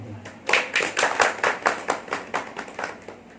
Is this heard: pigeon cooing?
no